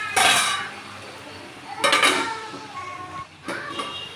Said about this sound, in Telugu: 5 minutes మూత పెట్టేద్దాం.